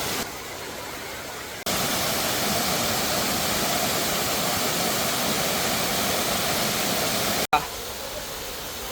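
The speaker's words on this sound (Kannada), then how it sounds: "ಈಗ ಕಾಂತಾರ ಫಾಲ್ಸ್ ಅಂದೇಳಿ ಪ್ರಸಿದ್ಧವಾದ ತೊಂಬಟ್ಟು ಫಾಲ್ಸಿಗೆ ಬಂದಿದೆ" Tombattu (Kantara) waterfall in forest, a loud, steady broadband roar of falling water heard up close, continuous with a brief cut partway through.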